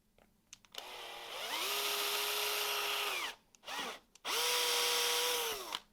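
Power drill with a bit slightly larger than an M3 screw opening up holes in a 3D-printed part, heard in three loud bursts, each spinning up to a steady whine then winding down, with short pauses between.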